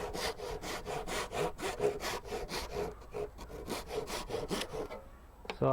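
A 90-year-old hand saw cuts a wooden tenon in steady back-and-forth strokes, close and crisp, about a dozen rhythmic rasps that slow and fade toward the end.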